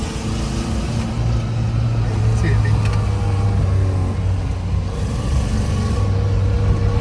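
A Maruti Gypsy drives through mud with a steady, loud, close engine drone and low hum that continues throughout, while someone talks over it.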